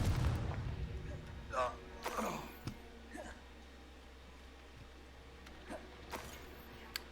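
Confringo spell explosions in Hogwarts Legacy, several muffled booms and crackling bursts spread through the clip, with game noise and a low rumble underneath.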